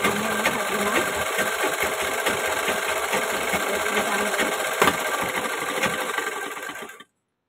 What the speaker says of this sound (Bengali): তাহলেও আমি আর একবার একটা সেলাই দেবো এখান থেকে সুন্দর করে সেলাইয়ের উপর দিয়ে।